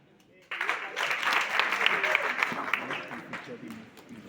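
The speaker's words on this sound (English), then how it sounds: "Clap hands and sit down." Audience applause at a skills and jobs expo talk in Gauteng, starting abruptly after a quiet half second and continuing as steady, dense clapping throughout.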